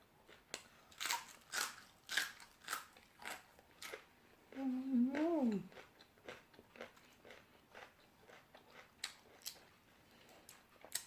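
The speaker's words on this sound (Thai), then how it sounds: "ผักกรอบดีเดียว" Fresh raw cabbage crunched and chewed alongside Thai boat noodles, giving a series of crisp, close bites at an irregular rhythm, with a short hum or voiced sound partway through.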